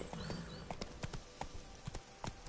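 Hooves of the horse Roach clip-clopping in a video game, a quick, fairly even run of close hoof strikes on firm ground, quiet and alone with no talking.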